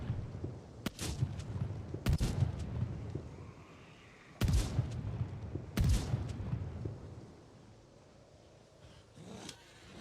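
Video game gunfire, a few sharp broadband shots spaced irregularly across the stretch, each loud and close with a short decaying tail, over a low rumbling background with no talk.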